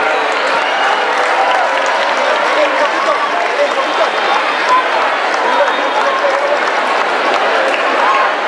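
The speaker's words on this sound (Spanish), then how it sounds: "Un aplauso para él." A crowd applauds the chronicler at the Borja town festival proclamation, a dense, steady wash of clapping that stays loud and close from start to finish.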